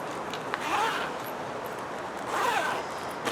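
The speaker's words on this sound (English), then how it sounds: "this all got zipped up" A zipper is drawn closed along a stationery pouch, heard as two short raspy zips close to the ear, one near the start and another about two seconds later, with quiet in between.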